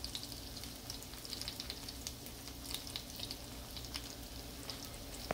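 Bacon and pancake batter frying on a griddle, a constant soft crackling sizzle with scattered pops, close and steady for several seconds, no voices.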